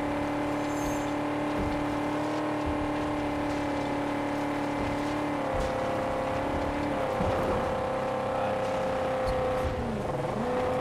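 Steady engine drone of a car drifting through sand in the Mad Max game, a continuous close whine with shifting pitch near the end.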